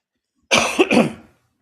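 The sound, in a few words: cough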